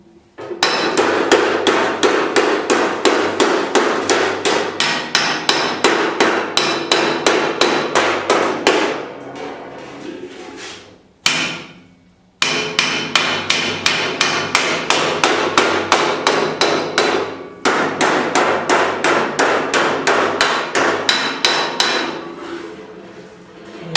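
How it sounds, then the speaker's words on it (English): Metal is hammered into a bowed shape in a steady stream of loud, sharp, ringing blows at about two per second, running for roughly ten seconds, pausing briefly, then resuming for two more long runs of strikes. "after about 30 hits, 40 hits or so, we start to have a bow back and forth like this"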